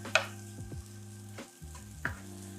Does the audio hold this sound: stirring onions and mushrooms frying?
yes